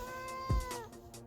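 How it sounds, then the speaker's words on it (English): A cat lets out a single drawn-out meow, moderately close, with a faint thump partway through. "Check out my cat."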